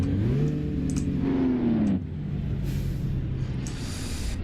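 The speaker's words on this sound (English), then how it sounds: "you will hear the engine scream now and again" In American Truck Simulator a truck engine revs and its pitch climbs. A pneumatic air-brake hiss cuts in, and then the engine settles into a lower, steady drone.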